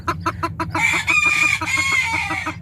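Native chickens clucking in a rapid, rhythmic series while a rooster lets out a loud, drawn-out crow close by, the calls overlapping with no talk.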